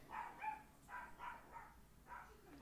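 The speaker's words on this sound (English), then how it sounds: "my dog is going wild today" A dog barks in a short irregular series of about six yips and woofs, faint and somewhat distant indoors, with quiet gaps between them.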